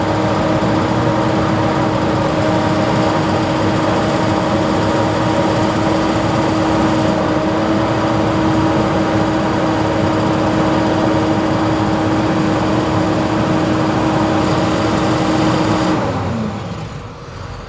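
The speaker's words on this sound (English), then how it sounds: "You'll hear the engine rev up." A car engine revs up during a diesel particulate filter regeneration test and holds at a high, steady drone with strong tonal whine for about sixteen seconds, then drops off as it winds down.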